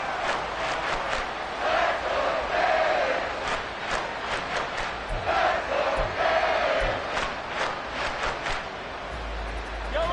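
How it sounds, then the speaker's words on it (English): A football stadium crowd roars continuously during a game, a dense, loud wall of voices with scattered shouts and whistles rising and falling over ten seconds. "This crowd is making an impact right now."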